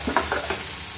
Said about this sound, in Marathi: तर आपला कांदा आणि टमॅटो पण व्यवस्थित परतवून झालेला आहे